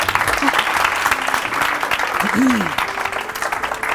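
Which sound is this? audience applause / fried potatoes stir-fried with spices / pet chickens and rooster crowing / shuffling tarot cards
audience applause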